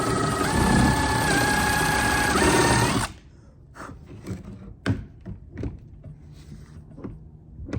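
A drill bores a half-inch hole in carbon fiber on an RX-7 with a loud, high whine for about three seconds, then stops, followed by scattered light knocks and handling clatter.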